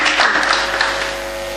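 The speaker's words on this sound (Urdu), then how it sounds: "تالیوں سے استقبال کیجیے مہمان ذی وقار کا" Audience applause greeting an honored guest speaker at a university gathering, a dense burst of many hands clapping close and loud, tapering slightly toward the end.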